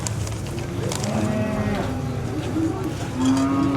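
Cattle mooing at a busy livestock market ahead of a festival sale, several drawn-out lowing calls rising from different animals over a constant crowd murmur and background chatter.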